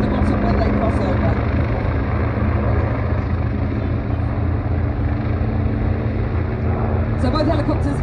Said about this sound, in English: So both helicopters into a wing over manoeuvre next.